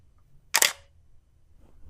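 A DSLR shutter fires once at its fastest speed, a single crisp mechanical click-clack close to the camera, followed by near silence.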